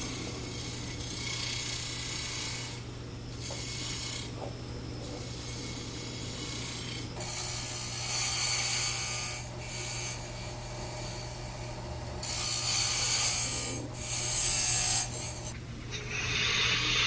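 Wood being shaped on a lathe for an antique Texaco gas pump lamp: a steady rasping, rubbing scrape of the tool on the spinning piece over a constant motor hum. The cutting sound comes in repeated strokes and pauses, close and moderately loud.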